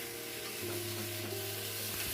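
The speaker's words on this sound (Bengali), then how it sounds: "একটু নাড়াচাড়া করে আমি এটা ঢাকা দিয়ে দেব।" Meat and potatoes being stirred in a hot pan, with scraping motions over continuous sizzling and frying.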